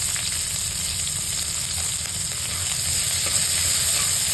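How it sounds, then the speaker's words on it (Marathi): Spring onion greens, crushed garlic, cumin and green chilli fry in a little oil, producing a constant close-up sizzle and crackle with a faint scrape of stirring and no speech. "असे थोड्याशा तेलावर होते कांद्याचे पात"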